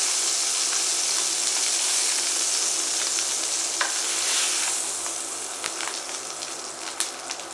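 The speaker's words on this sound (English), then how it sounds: "And I'll give them a little baste. So my steaks have had 3 minutes on each side." Steaks frying in a hot pan while being basted, a steady loud sizzle and spatter filling the whole stretch with occasional sharp pops, close and with no talk.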